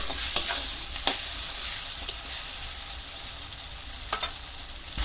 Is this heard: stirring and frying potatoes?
yes